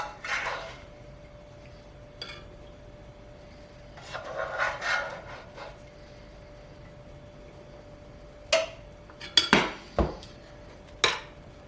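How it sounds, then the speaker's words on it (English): Minced meat going into a pan of fireplace potatoes: scattered metallic scrapes and clinks of a utensil against the pan, soft and intermittent, with a few sharper knocks near the end and no talking. "But here we can add some minced meat."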